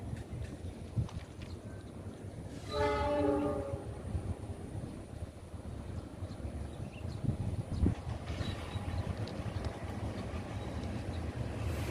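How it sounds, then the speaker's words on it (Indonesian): A CC206 locomotive sounds a short, loud horn blast, followed by the steady rumble of a passing train that continues throughout at moderate distance. "kita tunggu kereta api Lost Log CC206 tuh guys"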